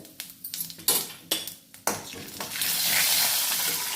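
Mustard seeds and chana dal crackling in hot oil in a kadai with cumin, with a scattering of sharp pops and spoon clinks that build into a steady, loud sizzle toward the end.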